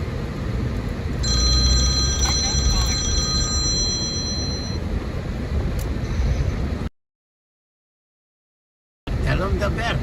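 Telephone ringing with an incoming call showing no caller ID, a repeating electronic ring heard through steady car and city traffic noise while driving around New York City, cut by a brief silent gap.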